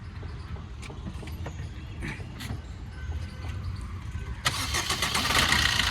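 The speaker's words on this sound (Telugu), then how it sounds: "సింగిల్ సెల్ఫ్ అయితే స్టార్ట్ అవుతుందండి బండి వచ్చేసి" The diesel engine of a 2017 Maruti Swift Dzire LDi starts on a single crank: a quiet low idle-like rumble, a brief starter churn, then the engine catches and settles into a louder, steady diesel clatter nearby.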